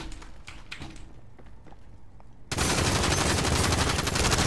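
Video game gunfire breaks out after a quiet stretch of faint clicks and taps: a sudden, sustained stream of rapid, loud shots that continues to the end.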